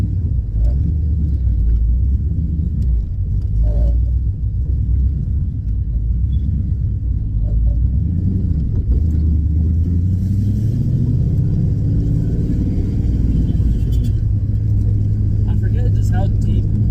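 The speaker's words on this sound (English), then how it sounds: "How deep tone the exhaust is. It's loud, but it's not obnoxious." A deep, steady V8 exhaust rumble from a Coyote-engine-swapped Ford Mustang fills the cabin while driving, loud and continuous, with talking over it.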